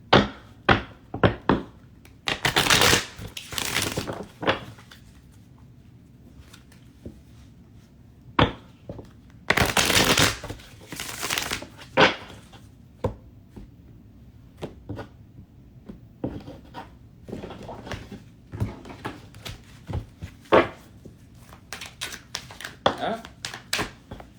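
Playing cards being shuffled close by: quick crisp riffling bursts and light taps and thumps of the deck, with a few louder flurries.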